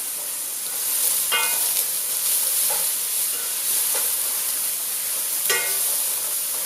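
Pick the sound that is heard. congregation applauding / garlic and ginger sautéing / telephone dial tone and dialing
garlic and ginger sautéing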